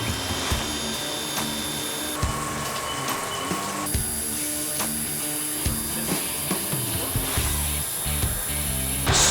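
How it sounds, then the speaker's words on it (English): A milling machine cuts pockets in parts held in a double vise converter setup, giving a steady machine drone with repeated tool-engagement thumps and high whining tones, loud and with no talk. "we are ready to start machining the pockets in this particular setup"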